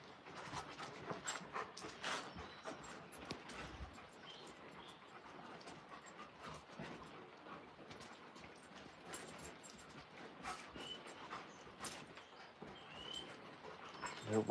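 Husky-type dogs scuffle and wrestle playfully, with quick panting breaths, soft thumps and scrabbling mixed through the quiet, fairly close.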